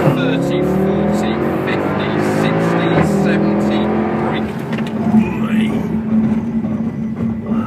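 A Mercedes car launches hard from a standstill, its engine rising in pitch as it accelerates through the gears from inside the cabin, with someone talking over it.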